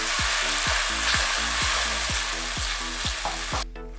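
Ground tomatoes fry with a steady loud sizzle in a pan, with a spoon scraping through them in a regular rhythm of about three strokes per second; the sizzle thins out near the end.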